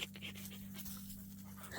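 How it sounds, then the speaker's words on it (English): Close, steady panting from an old dog at a cabin, quick rhythmic breaths over a low background hum, faint overall, with a brief louder sound at the end. "He's such a good old dog."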